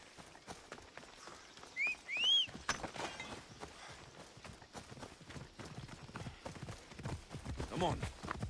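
Horse hooves clip-clop in a rapid, uneven rhythm in the video game Assassin's Creed Odyssey, a close galloping patter with a couple of brief whistled chirps and a voice talking over it.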